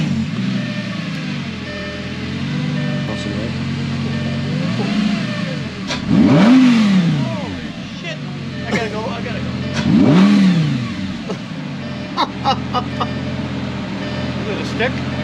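A sports car engine with a paddle-shifted e-gear gearbox idles, then blips through two sharp, loud revs that rise and fall, with people chatting nearby between them.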